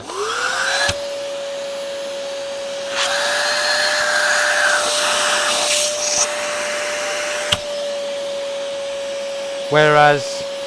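A Vytronix budget vacuum cleaner motor whines steadily and loudly at close range, its airflow restricted and motor under strain, with a brief sharper squeal near the end.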